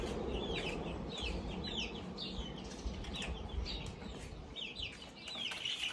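Chickens and young chicks kept at a neighbor's place in the Taiwanese mountains cluck and peep in a steady stream of short, bright calls over a constant outdoor background, with no talking.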